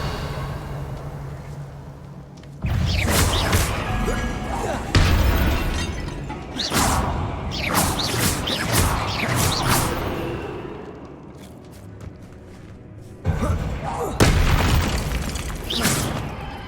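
Repeated magical blasting spells go off in the Hogwarts Legacy video game, delivered as loud booming bursts with shattering debris and whooshes, several explosive impacts separated by short quieter gaps; no talking over them.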